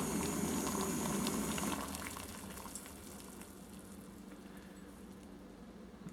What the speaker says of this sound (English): that's a rolling boil, so time to flip it off